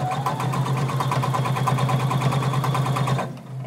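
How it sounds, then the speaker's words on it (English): A sewing machine stitches close to the edge all the way around a garment at a 3-point stitch length. It makes a loud, steady, rapid mechanical whirr with even stitch pulses, then stops abruptly just before the end. "I'm going to stitch all the way around using a 3-point stitch length"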